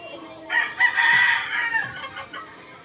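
A three-year-old Black Alabama bloodline rooster gives one loud, close crow that rises and holds for about two seconds before trailing off, with a faint voice in the background.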